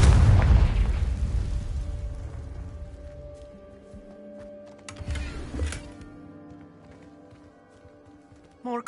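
Confringo spell explosion in the video game Hogwarts Legacy: a loud, deep boom that rings out and slowly fades, then a smaller second burst a few seconds later, with no talk over it.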